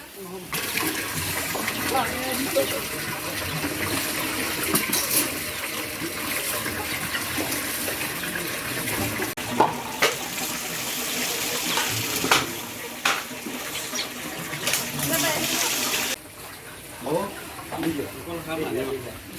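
Water sloshing, pouring and draining as rice is washed in a pot at an outdoor cooking session for children in Karen State, running steadily through the clip beneath nearby voices.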